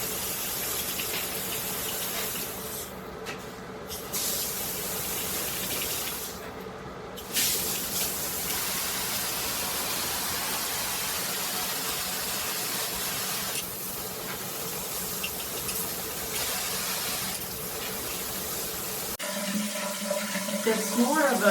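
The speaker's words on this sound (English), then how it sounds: "It's more of a mist than it is an actual spray, which can make you feel kind of cold." A PWERAN filtered handheld shower head sprays water on its mist setting, a continuous broad hiss that carries on for about twenty seconds with small shifts in intensity.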